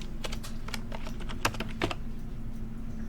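Quick clicky keystrokes on a computer keyboard while a layer is renamed in Blender, short irregular bursts over a steady low hum, close and fairly clear with no speech.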